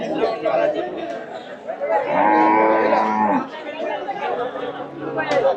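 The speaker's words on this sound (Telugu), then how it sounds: "ఇవన్నీ ఆవులు గేదెలే వచ్చాయి ఎక్కువ." Cows and buffaloes at the Alamanda cattle market low in a long moo amid crowd chatter and nearby talk, with people speaking throughout.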